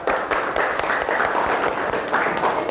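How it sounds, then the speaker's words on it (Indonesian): Classroom students clap together for a presenting group, a continuous mass of hand claps, fairly loud and near, with a few individual claps standing out. "Tepuk tangan dulu kelompok 1."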